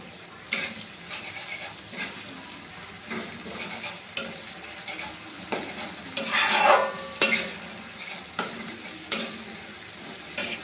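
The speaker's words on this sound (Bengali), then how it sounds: "এবার ভালোভাবে মিক্স করে নেব।" A masala mixture with ginger-garlic paste for a Bengali omelette curry is stirred in a pan, spoon scrapes and taps repeating over a soft sizzle, with one longer, louder scrape partway through.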